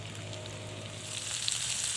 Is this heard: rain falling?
no